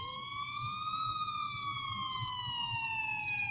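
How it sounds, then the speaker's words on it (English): Police sirens from an animation wail far off, with a smooth rising and falling tone that holds steadily over a low rumbling background. "until I finally heard sirens in the distance"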